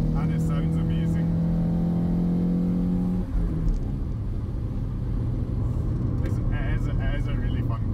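A 1989 Toyota MR2 AW11 with its 4A-GE engine accelerates hard in third gear, the note climbing steadily before a shift, heard from inside the cabin beneath a voice.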